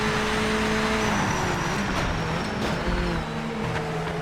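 Corvette race car engine from the video game Project Motor Racing, a steady loud droning hum with shifting tonal pitch, continuous and close throughout with no talking.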